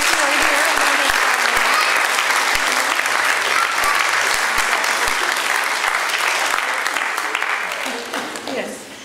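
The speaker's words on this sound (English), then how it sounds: "let's give them a round of applause" Loud, sustained applause from a large church congregation at a Sunday worship service, dense and even, tapering off toward the end as the clapping fades.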